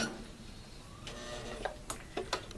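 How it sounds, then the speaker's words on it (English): A sewing machine stitches slowly toward the end of a seam, giving a few faint, soft mechanical clicks over a quiet background hum. "Now I'm going to sew almost to the end, about 2 stitches away from the end"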